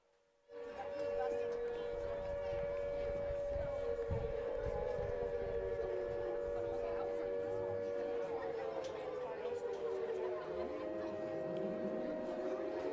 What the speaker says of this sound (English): there's the air raid siren